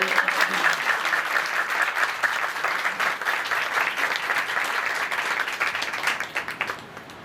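A church congregation applauds for a birthday, dense, sustained clapping from many hands filling the room, then tapering off at the end.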